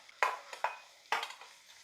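Finely chopped onion sautéing in a pan where carrots are already softening, heard as three or four short scraping stirs with brief sizzles between them, close and with no talk.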